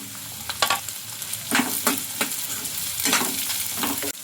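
Sliced carrots, long-cut onions and chillies frying in a pan, a crackling sizzle punctuated by several bursts of stirring and tossing, close and moderately loud with no talk.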